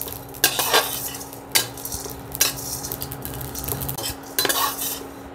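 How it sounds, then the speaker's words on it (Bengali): Whole black pepper, white mustard seeds and poppy seeds dry-roast in a pan, stirred with a metal spoon that scrapes and clinks against the pan in repeated sharp strokes over a faint sizzle, close and loud. "গোটা গোলমরিচ, সর্ষে। এখানে সাদা সর্ষে নিয়েছি, সাদা সর্ষে কালো সর্ষে যেটাই হোক হলেই হবে। পোস্ত, এগুলো সব একসাথে আমি এবার ভেজে নেব।"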